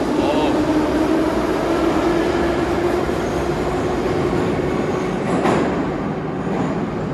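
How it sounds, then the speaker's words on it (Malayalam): An old metro train in the Tashkent metro, Uzbekistan, rumbles loudly and steadily as it arrives, a constant roar with a brief sharp squeal near the end; a voice speaks at times over the noise. "ഇതൊരു മെട്രോ ട്രെയിൻ കണ്ടോ"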